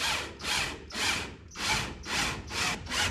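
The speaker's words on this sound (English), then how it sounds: "hopefully that's good enough to get the drill going without it making it dance all over the frame" A power drill bores a hole in the steel frame of a '55 Chevy in a garage, whirring in about six short bursts with brief pauses, close and fairly quiet.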